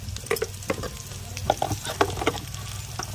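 Radish pickle spices with ground coriander fry and sizzle in a pan while a spoon stirs through them, giving a steady close sizzle broken by frequent scraping and tapping strokes.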